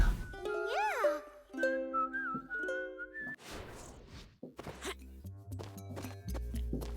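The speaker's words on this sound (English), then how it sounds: "I love the whistled version of the song here on the world map too." Whistled melody from the world map theme of the Rayman Origins video game, a bright rising-and-falling tune that continues with plucked and bouncy game music notes and soft thumps across several seconds.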